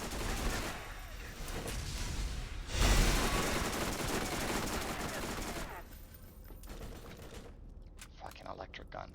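Electric guns firing in the video game Borderlands, a dense continuous crackling barrage of rapid shots that fades toward the end into sparser pops, with a voice talking over it.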